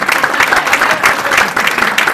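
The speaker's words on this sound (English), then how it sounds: "A big round of applause for all of my partners in crime." Loud, steady applause from an audience at a symposium, many hands clapping together in a dense, continuous wash close by, with no voices over it.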